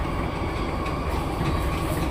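Keihin-Tohoku Line rapid service train bound for Ōfuna running along, a steady low rumble and rolling rail noise heard from inside the carriage, even and continuous without announcements or voices.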